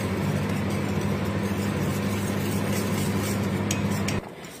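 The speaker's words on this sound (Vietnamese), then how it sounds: "Khi hạt gạo của chúng ta nó vỡ ra như này rồi thì các bạn phải quấy liên tục nhé" Thick rice batter for bánh đúc being stirred steadily in a pot, making a continuous, close scraping and swishing sound over a low hum that cuts off abruptly near the end.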